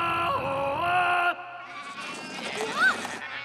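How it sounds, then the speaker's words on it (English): Cartoon sheep bleats loudly in a wavering, drawn-out cry, then a second, higher bleat follows after a short break, both close and clear with no talking over them. "Now, Ape can count sheep"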